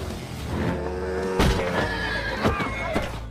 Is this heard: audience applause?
no